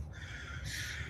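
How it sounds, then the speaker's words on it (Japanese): Crows caw in the background of a quiet outdoor morning scene, a steady low rumble underneath and brighter calling rising partway through. "後ろの鳥の声や自然の音がとてもいい。"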